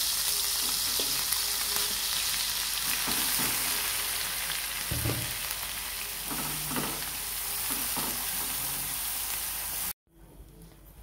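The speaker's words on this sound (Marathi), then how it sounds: "आता आपण हा मसाला परतून घेणार आहोत" Masala for egg curry sautéing in a pan, with homemade red chilli powder, salt and ground spice paste, gives a dense, close, continuous sizzle with occasional stirring scrapes before cutting off abruptly near the end; no one talks.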